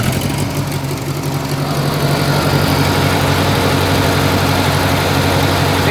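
A Massey Ferguson 202 tractor engine with a newly fitted alternator runs close by, a loud, steady rumbling idle with a throbbing low chug that holds even throughout.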